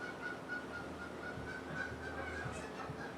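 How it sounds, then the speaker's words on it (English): Ducks on a pond quack faintly and steadily in the distance, a soft, continuous chatter of birds against quiet outdoor background hiss. "I don't know if you can hear it or not, but the ducks are really excited about this recipe."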